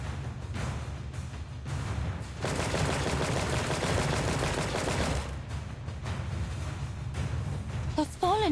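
Video game gunfire in Destiny: Rising, bursts of rapid shots from Fallen enemies forming a dense stretch of firing in the middle, set against ongoing game sounds and background talk.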